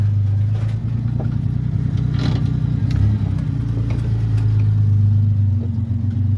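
Enduro race car engine, running rich with no smog pump, revving hard under throttle: a steady, loud, close low-pitched roar with rough clatter, sustained throughout with no talk.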